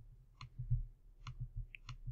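Keys on a Mac keyboard tapped for a copy shortcut: a few sharp, isolated clicks spaced across two seconds, close and quiet over a faint low hum, with no talk.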